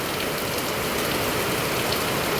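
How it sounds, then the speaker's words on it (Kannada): Steady night rain falling outside a balcony in Udupi, a dense, even hiss of drops hitting surfaces that holds at one level throughout, with no voices. "ನಮ್ಮನೆ ಬಾಲ್ಕನಿಯಿಂದ ಮಳೆ ನೋಡ್ತಾ ಕೂತಿದ್ದು ನೈಟ್ ಟೈಮಲ್ಲಿ."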